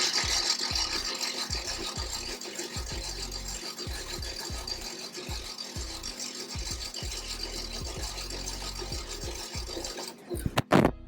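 Cam lobe polishing on a 1975 Moto Guzzi cafe racer engine, a close, rhythmic rasping and scraping in regular strokes about every half second, rubbing metal with faint ratchet-like clicks, ending with a few louder knocks.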